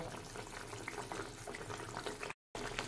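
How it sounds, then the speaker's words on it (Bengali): Fish curry gravy bubbles in a pan on the stove, a steady close seething and popping with a brief dropout near the end, no voices. "আরো 1 মিনিট মতো আমি নুন দেওয়ার পর গ্রেভিটা একটু ফুটিয়ে নেব।"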